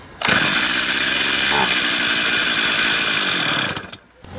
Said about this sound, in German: Der Motor ist jetzt deshalb durchgelaufen